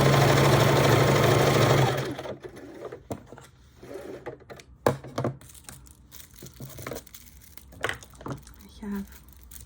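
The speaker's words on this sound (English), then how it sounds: "I'll make one seam here before turning those straps" Close up, a sewing machine runs a steady stitching burst for about two seconds while sewing a seam on a large tote bag, then stops, leaving soft fabric handling and clicks.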